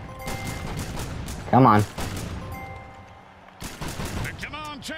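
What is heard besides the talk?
gunfire from a gun in the Mutant Football League video game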